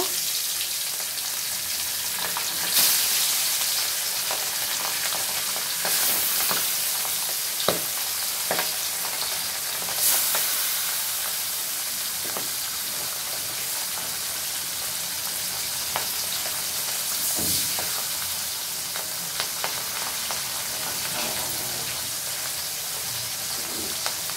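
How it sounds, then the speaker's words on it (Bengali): Fish sizzling in hot oil in a pan, a continuous crackling hiss throughout, with occasional pops and light scraping of a utensil. "বন্ধুরা, বাকি মাছগুলো ভেজে নেব।"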